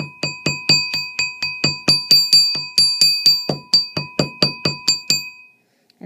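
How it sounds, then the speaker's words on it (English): A hammer bounces against a wire ring on a metal mandrel while making a hammered stacked cuff ring, about twenty bright ringing metallic strikes in a steady rhythm, each note decaying quickly, close and clear, then stopping. "You want to hear that ringing noise."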